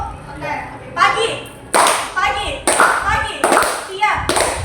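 Children in a classroom clapping game clap in quick bursts, sharp rhythmic claps in clusters with pauses between, mixed with a teacher's and kids' voices talking over the clapping.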